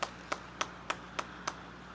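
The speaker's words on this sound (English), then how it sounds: "We hear the coaches clapping over here, trying to get something going here for NOLA baseball." Coaches clapping at a NOLA baseball game: six sharp, evenly spaced claps about a third of a second apart, close and distinct over a low steady background hum.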